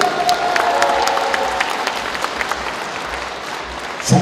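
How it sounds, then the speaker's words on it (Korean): A party convention crowd in Gyeongnam claps and cheers for a Democratic Party leadership candidate's speech, a sustained, loud wash of applause with scattered individual claps and faint voices mixed in. "잘하고 있으면 큰 박수를 한번 부탁드립니다."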